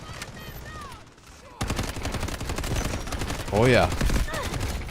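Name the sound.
AUG rifle gunfire with FFC muzzle brake, from video game Delta Force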